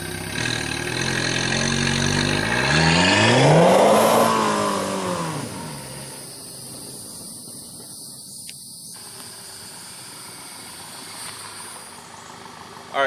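An Audi 2.0T with an upgraded OEM intake drives off down a dirt road. The engine revs and climbs loudly, then fades to a distant, steady hum.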